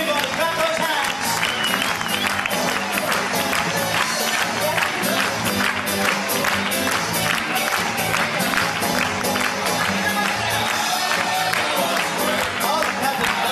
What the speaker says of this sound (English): Come on, everybody, clap those hands.